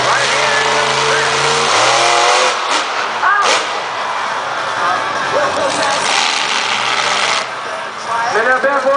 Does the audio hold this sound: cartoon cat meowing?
no